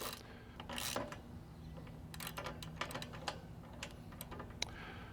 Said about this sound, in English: take your 9/16 socket and just turn that